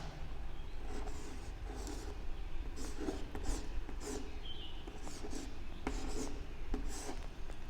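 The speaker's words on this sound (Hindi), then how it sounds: "यहाँ पे लिखते हैं" Chalk or marker scratches and taps on a board in a classroom, a continuous run of short strokes and scrapes at moderate loudness, with no voice over them.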